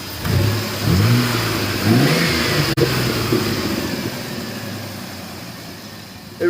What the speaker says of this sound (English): Alright, so I replaced the rotor cap, and now it's just making this kind of a noise.